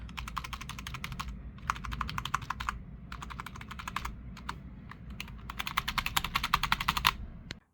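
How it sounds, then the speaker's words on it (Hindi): Keys clatter on an Ant Esports MK1700 gaming keyboard in quick, continuous bursts of typing, close up, with brief pauses between runs and no talk. "टाइपिंग और की साउंड की बात करें तो साउंड ठीक है, ना बहुत ज़्यादा लाउड है और ना ही बिल्कुल साइलेंट।"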